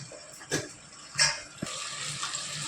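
Water is poured into a pan of ripe banana curry as it cooks, giving soft splashing gushes and trickling with a couple of brief clinks, quiet and close, with no talking.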